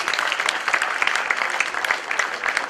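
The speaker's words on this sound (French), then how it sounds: "Merci Richard, je vous demande de l'applaudir une deuxième fois" A short burst of crowd clapping during a speech event in Cannes, brisk and fairly loud, with distinct individual claps in a moderate-sized audience.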